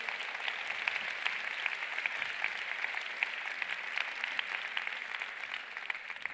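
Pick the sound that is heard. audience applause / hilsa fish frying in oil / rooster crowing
audience applause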